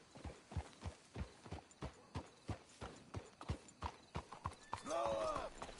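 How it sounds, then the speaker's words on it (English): Horses trot along a path in Red Dead Redemption 2, a steady clip-clop of hooves close by, ending with a horse whinnying. "Let's hitch the horses up ahead."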